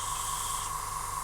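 An airbrush sprays Vallejo paint onto a 1:72 scale model inside a spray booth, giving a steady, even hiss that holds unbroken at low level.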